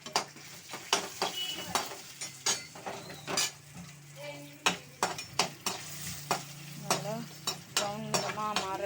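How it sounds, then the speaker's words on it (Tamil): A Tamil dal curry (paruppu kuzhambu) frying in a pan while a spoon stirs it: a steady close sizzle under repeated metallic scrapes and clinks against the pan, with no talking. "ப்ரௌன் நிறமாக மாற வரைக்கும் ஃப்ரை பண்ணிக்கலாம்."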